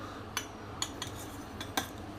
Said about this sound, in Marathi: शेंगदाणे मी मिक्सरमध्ये टाकून घेते